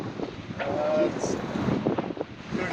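Strong wind gusting around a sailboat at sea off Corsica, a constant roaring rush with buffeting on the microphone, while a person speaks briefly over it.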